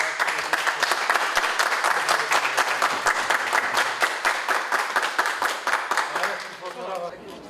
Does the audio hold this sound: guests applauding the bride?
yes